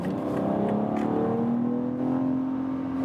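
A BMW SUV accelerates hard while overtaking, its engine note rising steadily in a loud, continuous drone heard from inside the cabin, no voices.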